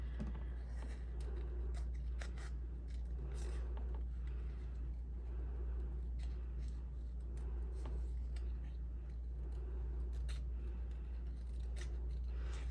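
Scissors snip through pieces of paper card in a quick run of crisp, close cuts, with a low steady hum underneath.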